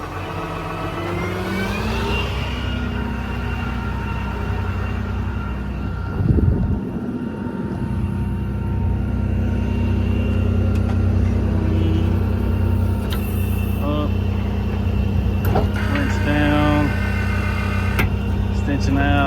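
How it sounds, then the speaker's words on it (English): A 2010 Dodge Ram 5500 service truck runs with its PTO engaged to drive the crane: a steady diesel engine drone with hydraulic whine, a brief clunk partway through and clicks later on. No one speaks. "I'm gonna kick the PTO on, show you the crane"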